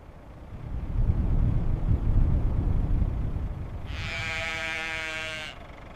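A sheep bleats in a Siberian winter at extreme cold, a single wavering bleat rising over a low rumble of wind or engine noise after a few seconds, then cutting off.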